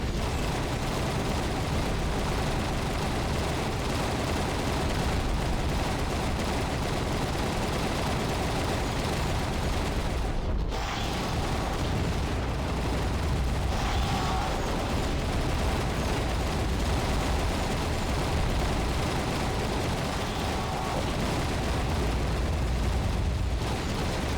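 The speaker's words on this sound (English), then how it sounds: "Gatling going ham." A Gatling gun fires in the underwater video game AquaNox, a continuous loud roar of rapid fire lasting the whole stretch with only a brief dip partway through, and no talking.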